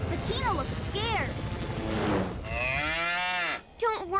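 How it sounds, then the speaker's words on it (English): A cartoon cow lets out several wavering, drawn-out moos, one long and loud, over a steady background hum, with brief speech-like sounds at the end. "Too bad cows can't snowboard, huh, Ryder?"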